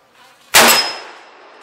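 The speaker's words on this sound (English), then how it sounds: "let me see if I can hit that real bright circle gong at 40 yards" A 30-30 rifle round strikes a steel circle gong target at 40 yards, giving a single sharp metallic clang that rings out and decays over about a second, with no voices.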